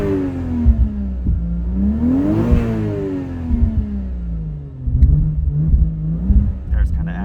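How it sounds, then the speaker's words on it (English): A Toyota Supra Mk3 with a 1JZGTE engine revs up and settles repeatedly, its pitch rising and falling smoothly over a steady rumbling idle, close and loud, with a voice talking over it. "As you can see, it revs smooth when it wants to run"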